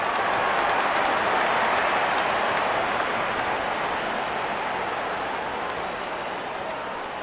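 A stadium crowd cheering in the cricket game Real Cricket 22 after a batsman's century, a dense, steady roar of applause and cheers that fades slightly toward the end.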